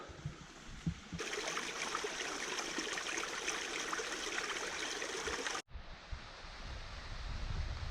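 Telegraph Brook rushes along a coastal forest trail, a steady close wash of flowing water that fills the scene, briefly cut off partway through before resuming.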